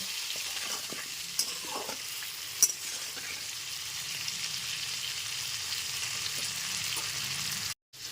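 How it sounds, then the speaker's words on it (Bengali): Long-cut taro pieces fry in a pan over a medium gas flame, giving a steady close sizzle with occasional soft stirring scrapes before a brief dropout near the end. "এইবার গ্যাসের ফ্লেমটা মিডিয়ামে রেখে বেশ কিছুক্ষণ সময় নিয়ে কচুগুলো খুব ভালো মতো ভেজে নেব"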